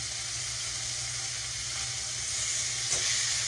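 Beef pieces for stroganoff sizzling in a pan on the highest heat, a steady close hissing fry that holds evenly throughout with no talking.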